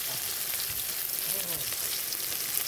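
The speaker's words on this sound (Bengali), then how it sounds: "কড়ার মধ্যে তেল দিয়ে দিয়েছি আর শুকনো লঙ্কা" Whole dried red chillies fry in hot oil in a wok, giving a steady close crackling sizzle with light popping throughout.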